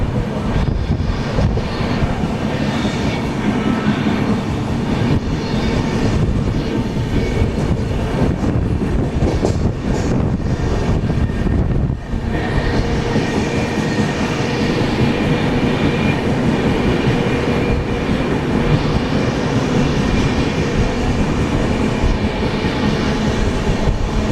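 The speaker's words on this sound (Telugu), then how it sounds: "మనం అయితే స్పెషల్ ట్రైన్ అయితే ఓవర్టేక్ చేస్తున్నాము" A special train from Bengaluru to Visakhapatnam rumbles loudly and continuously along the rails, heard from a general coach, with steady clatter and wheel noise filling the whole stretch, no voices.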